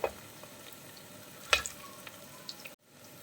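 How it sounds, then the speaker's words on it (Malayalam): Oil bubbling and crackling steadily as cauliflower pieces deep-fry for chilli gobi, with a couple of sharp utensil knocks, then a sudden cutoff. "രണ്ട് വശം നന്നായിട്ടൊന്ന് വറുത്തെടുക്കാം. നല്ലോണം ഒന്ന് മൂത്ത് വരണം, നല്ല ക്രിസ്പി ആയിട്ട് കിട്ടണം നമുക്ക്."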